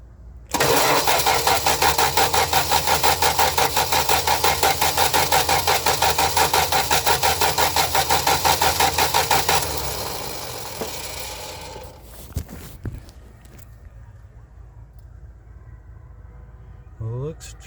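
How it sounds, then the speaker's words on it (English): A 1968 Plymouth Valiant engine with a freshly fixed leaking carburetor cranks and catches, running loud and steady with a rhythmic pulse for about nine seconds before dropping off, followed by quieter clicks and handling noises. "hit that starter and see what happens"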